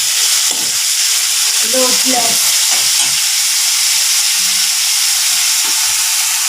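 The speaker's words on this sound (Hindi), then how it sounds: "प्याज को ब्राउन कलर आने तक पकाएंगे।" Chopped onions frying in a pan until brown, a loud steady sizzle with scraping stirs and a few clinks of a spoon, close up, and a single short spoken word.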